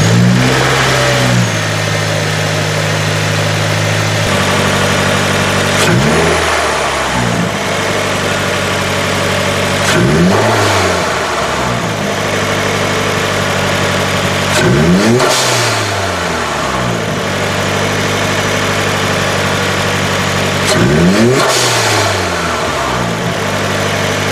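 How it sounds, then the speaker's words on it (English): A 2017 Subaru Forester XT engine with an aftermarket Mishimoto intake idles with a deep throaty tone, then revs up sharply several times in a row, each rev rising and falling back to idle. "give you guys a couple rev clips so you could hear how the intake sounds"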